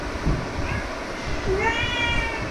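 A cat meows a few times, thin drawn-out cries rising over a steady noisy background after a brief thump early on, with no talk.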